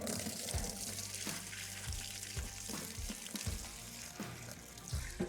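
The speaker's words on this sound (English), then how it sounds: "The tank is still full of fuel, so I'm going to empty it out into this tub first" Fuel drains out of a motorcycle tank into a tub, a steady close splashing and trickling pour with a few knocks and clunks.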